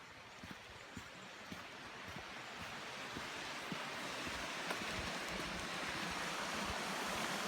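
A creek in Tasmania runs full after rain, giving a steady, broadband rushing of water that slowly swells a little louder, with faint wind and no voices.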